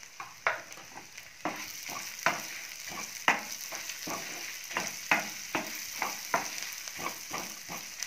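Green chillies and lentils frying in a pan over a low flame, giving a steady close sizzle with repeated sharp crackles and stirring scrapes about every half second.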